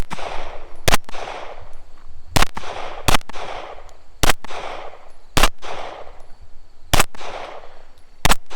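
Gunfire at a two-gun shooting match, with sharp, loud, evenly spaced shots every second or so, each followed by a ringing metallic clang from steel targets; close and with no talking.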